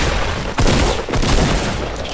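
Shotgun blasts in Fortnite: two or three loud, close booming shots in quick succession, harsh and full over constant in-game noise, with no talking.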